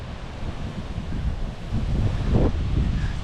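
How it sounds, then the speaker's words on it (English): Wind gusting through trees along a West Virginia trail, a broad, steady rumbling rush that swells louder partway through, close to the microphone with buffeting. "The wind blowing through the trees."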